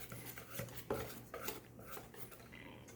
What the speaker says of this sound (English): my sister is using a whisk, but I'm using a spoon which collects more batter